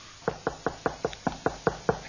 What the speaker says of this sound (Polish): coś puka!